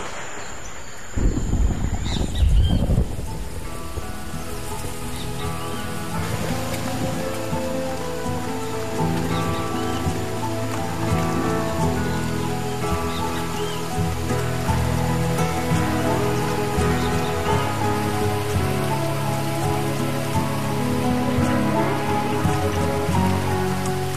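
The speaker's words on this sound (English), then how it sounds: "The heavy rains in January." Heavy January rain in the Pantanal pouring steadily on surfaces, a dense continuous hiss, with a brief louder splash or gust near the start.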